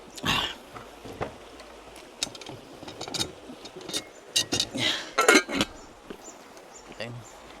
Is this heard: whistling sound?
no